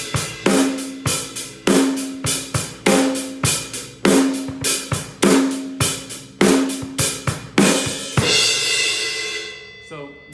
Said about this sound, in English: So like the beginning of each 4-bar phrase usually will get a crash